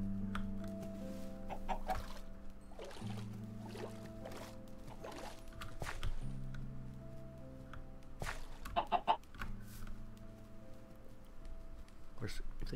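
Chickens cluck intermittently through a rooster-and-hen farmyard scene, moderately close, with other bird calls and outdoor noise mixed in.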